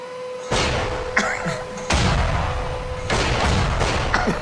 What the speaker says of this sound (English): So they're adding in gunshots as the noise